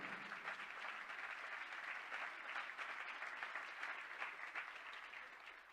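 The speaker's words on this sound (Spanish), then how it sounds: "Dar un aplauso al Señor." A church congregation claps steadily in praise, a continuous, even wash of applause heard faintly at a distance, with no talking.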